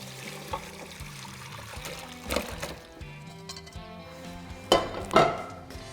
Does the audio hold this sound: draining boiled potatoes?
yes